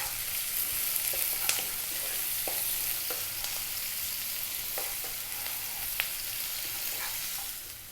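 Onions with salt fry on high heat in a pan, giving a steady, close hiss of sizzling with occasional crackles and light stirring taps throughout.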